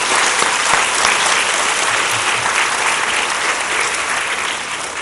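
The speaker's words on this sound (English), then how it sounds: "Can we have a round of applause for those people making the Thought Exchange video?" An audience at a board of education meeting claps loudly and steadily, a dense, sustained round of applause that tapers slightly toward the end.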